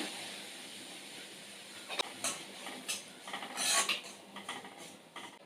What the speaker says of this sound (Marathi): कढईमध्ये तूप आहे त्याच्यामध्ये रवा घालूयात